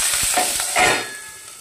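Oil sizzles and crackles in a pan while green chilli thecha cooks with coriander and salt, a close, busy frying hiss with a few scraping stirs, no voices.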